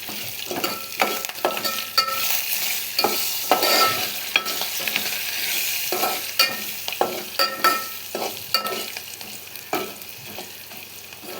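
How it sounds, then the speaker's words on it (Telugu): Upma mixture is stirred in a pan, soft sizzling beneath repeated scraping and knocking strokes of a spoon in an uneven rhythm, close and fairly loud. "ఒకసారి బాగా మిక్స్ చేసుకోవాలి"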